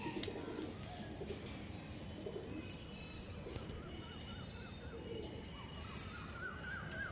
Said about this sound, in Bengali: এই হচ্ছে সেফটিপিন মারা পায়রা